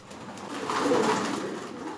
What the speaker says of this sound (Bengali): এখন তার বাড়িতে দেশি বিদেশি 25 প্রজাতির প্রায় 300 জোড়া কবুতরের বসবাস।